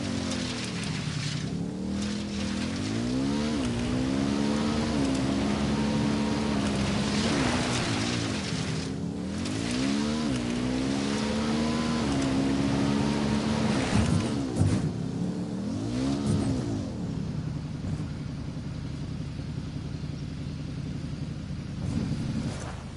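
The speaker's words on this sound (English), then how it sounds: "I'm riding the motorcycle." A motorcycle engine in the video game Ghost Recon Wildlands roars close and loud while riding, its pitch repeatedly rising and falling through revs and gear shifts and settling into a lower drone near the end.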